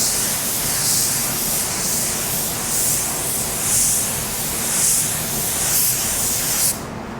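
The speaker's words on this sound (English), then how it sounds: "Our first coat is not gonna be heavy. We wanna introduce the base to the panel" A paint spray gun lays a light first coat of white pearl base onto a panel, making a loud, close hiss that swells and fades in repeated rhythmic passes before cutting off near the end.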